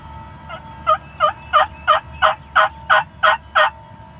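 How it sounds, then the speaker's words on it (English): Wild turkey gobbler gobbling at the edge of a wood, a loud rapid string of about ten rattling gobble pulses in quick, even rhythm over a low rumbling background. "Gobbler just stepped out of the woods."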